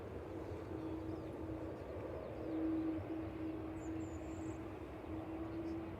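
A Hainan Airlines airliner taxiing for departure at Manchester Airport, a low steady distant engine drone with a faint whine holding throughout, swelling slightly midway.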